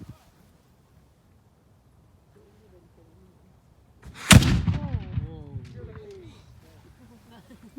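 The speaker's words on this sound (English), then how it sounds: "Gun crew, make ready. Fire!" A single loud blast from a historic cannon at Old Fort Niagara booms out of near silence, followed by a long rumbling decay with scattered voices reacting afterward.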